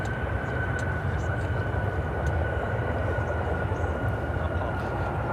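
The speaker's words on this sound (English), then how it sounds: "This is Frontier, Flight 45, coming in from Cancun on the A320neo, sporting Captain the Puffin livery." Frontier Airbus A320neo arriving from Cancun to land, a steady broadband jet roar with a faint engine whine, sustained and somewhat distant.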